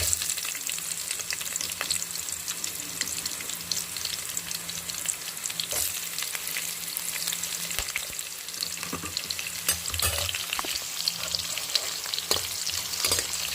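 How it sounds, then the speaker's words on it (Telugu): Onions and green chillies fry in a tempering of hot oil, making a steady close hiss with frequent stirring scrapes and clicks throughout and no one talking. "ఒకసారి ఆనియన్స్ పచ్చిమిర్చి కూడా వేసుకుందాం, ఎందుకంటే తాలింపుతో పాటు ఇవి కూడా ఫ్రై అవుతూ ఉంటాయి కలిపి."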